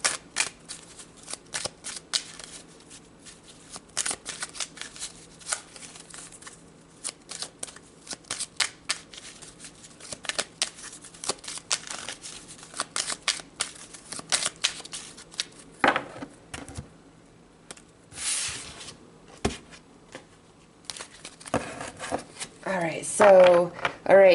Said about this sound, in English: So let's pull some cards on that and see what comes out.